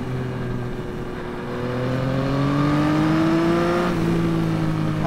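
A 2021 Yamaha MT-09 motorcycle accelerating through the revs, engine note climbing steadily in pitch and growing louder over several seconds, close and continuous with wind noise and no talking.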